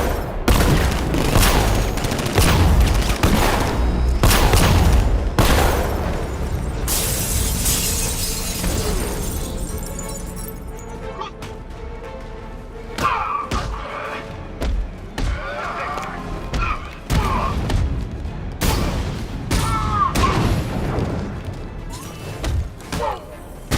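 Bursts of gunfire and shattering impacts in the Batman: Arkham Knight video game, loud and dense in the first half, then scattered thuds and shots under game dialogue and music later on.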